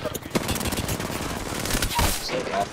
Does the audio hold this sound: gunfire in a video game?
yes